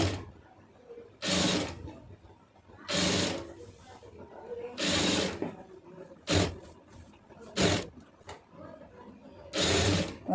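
A domestic sewing machine stitches piping onto a churidar neckline in short, close bursts of whirring stitching, separated by pauses with quiet voices between.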